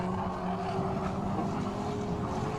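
A modified 1050cc Mini race car engine hums steadily on the Katukurunda track, a sustained tonal drone at moderate distance with no breaks.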